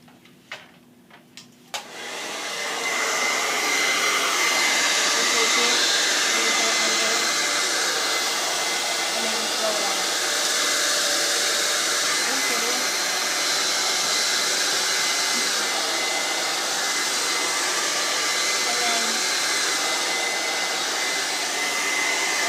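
A blow dryer runs continuously while drying hair with a paddle brush, a loud steady whooshing whine after a few seconds of quieter handling noise at the start.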